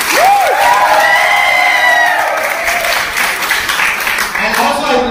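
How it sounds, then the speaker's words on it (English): An audience at a college fest inauguration breaks into loud, sustained applause with cheering and a rising whoop, while a voice on the mic carries on over the crowd noise. "So big round of applause for"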